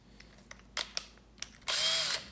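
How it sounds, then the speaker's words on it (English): A power drill revs in short bursts on wood from a salvaged skateboard clamped down at high speed, several brief clicks and whirs leading into a louder sustained drilling run near the end, close and with no talk. "when we're drilling wood, we're typically wanting to use higher speeds."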